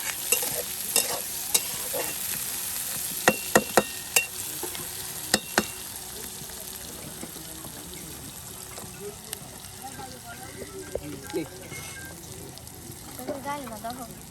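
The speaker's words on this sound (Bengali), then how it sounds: "আবারও কিন্তু একদম তেলে পেঁয়াজ রসুন কাঁচামরিচ সব একসাথে ঢেলে দেওয়া হলো।" Onion, garlic and green chillies frying together in oil for dal, giving a steady sizzle with scattered stirring clinks early on, close and fairly loud, with a faint voice in the background.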